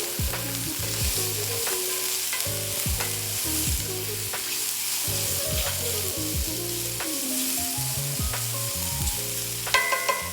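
Breadcrumbs toasting in a pan for green bean casserole, a steady dry sizzle broken by repeated rhythmic scraping stirs, close and moderately loud, with a few sharper clinks near the end.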